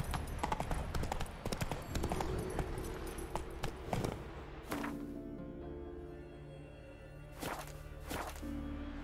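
Horse hooves galloping in The Witcher 3, a quick, busy clip-clop of hoofbeats over a steady tonal game backdrop, with a few sharper thumps later on.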